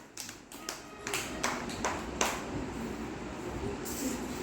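Children in a classroom clap for a classmate, a brief burst of scattered, uneven claps that settles into a soft patter, fairly faint.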